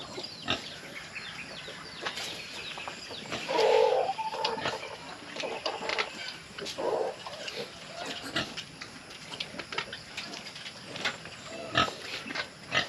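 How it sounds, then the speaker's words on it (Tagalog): Pigs and piglets grunt and squeal amid a busy farm pen, with scattered clatter and faint bird calls in the background. "So yun yung mga baboy natin dito kahit pa paano na malaki-laki na ang mga biik."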